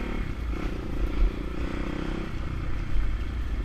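A restored Honda XR200RC dirt bike engine runs steadily, a rough, close motor drone with slight surges in throttle and some mechanical clatter, no one speaking.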